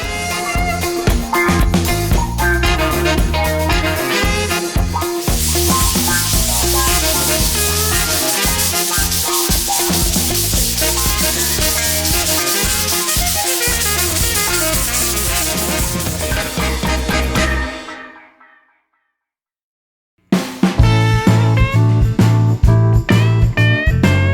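Skim coat plaster being sanded smooth on an interior wall: steady, loud scraping and rubbing strokes, then a brief drop to silence near the end before the sanding resumes.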